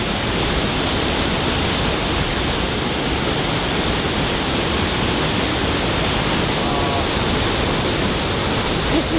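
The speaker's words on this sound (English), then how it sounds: "That's probably the fastest moving waterfall I've ever seen." A fast-moving waterfall at Haley Creek near the Copper River in Alaska roars as a continuous, broad rushing wash of water, close and loud with no break.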